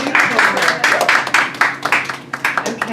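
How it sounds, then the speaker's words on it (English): An audience at a women's artist salon gives a performer a round of applause. Brisk, close clapping from a small crowd runs continuously for a few seconds. "let's give her another round of applause"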